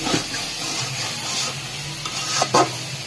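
Goat meat cooking in a pot, sizzling and hissing steadily up close, with spoon-stirring scrapes and a couple of sharper bursts near the end.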